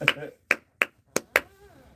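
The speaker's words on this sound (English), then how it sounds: "They make me want to do the Nola clap." Five sharp, close hand claps ring out in an uneven New Orleans-style rhythm, each crisp and isolated against near silence.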